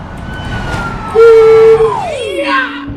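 Police car siren in the driving game BeamNG Drive, a loud wailing tone that holds steady, then sweeps up and down over about two seconds, with engine rumble and faint game noise underneath.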